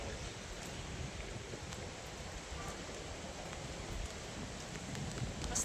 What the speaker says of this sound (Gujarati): અમારે તો બહુ મસ્ત મજા આવે એવો વરસાદ આવી ગયો છે.